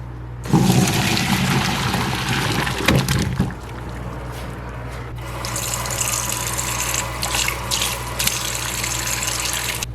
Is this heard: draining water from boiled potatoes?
yes